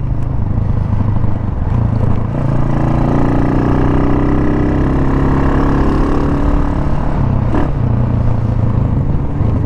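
A Honda CG motorcycle engine modified to 210cc idles close by, a loud continuous throbbing rumble with slight shifts in pitch, no voices.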